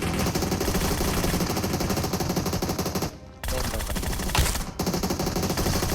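Heavy automatic gunfire in PUBG Mobile, sustained rapid bursts that fill the clip, broken by a short pause and a brief gap later on.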